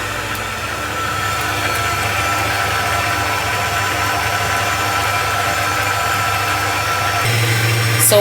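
An electric whisk machine runs steadily while mixing batter for oatmeal and honey bread, giving a constant motor hum that thickens slightly near the end.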